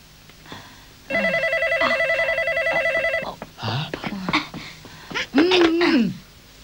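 A steady series of telephone tones, then short rattles and clunks of handling, ending in a brief voiced murmur; moderately loud and close.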